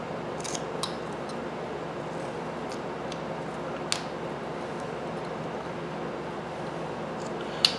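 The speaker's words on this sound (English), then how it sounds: "That sweep cut, if you can see that, I'm taking that along the edge of that brim." A knife carving a wooden snowman makes a sweep cut along the edge of its brim. The scraping is faint and steady, with a few sharp clicks.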